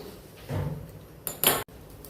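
A metal wok clatters and scrapes as it is set down on a stovetop, followed by a couple of brief sharp clanks, close by.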